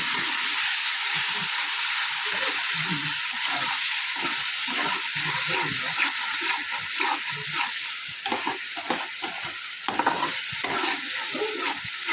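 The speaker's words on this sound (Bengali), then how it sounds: "এর মধ্যে আমি দিয়ে দিব কষানোর জন্য জল দিলাম" Water poured into cooking masala sets off a loud, steady sizzle and bubbling hiss that continues evenly throughout, with stirring scrapes mixed in and no talking.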